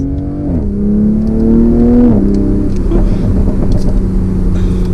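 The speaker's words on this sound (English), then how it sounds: "I hope you guys can hear those pops in the exhaust." A 2020 Toyota GR Supra 3.0 engine revs up and settles in sport mode, its throaty exhaust droning loudly with a brief pitch dip and subtle crackling pops.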